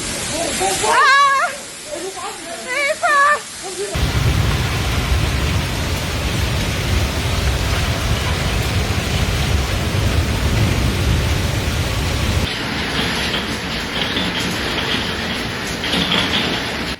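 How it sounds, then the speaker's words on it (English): A strong thunderstorm with heavy rain and hail batters Rheine, Germany, as a loud, dense roar of rain with low rumbling underneath that lasts throughout. A brief wavering, voice-like cry is heard near the start. "a dramatic scene dominated by flashing lightning and rolling thunder, signaling the arrival of an intense weather system"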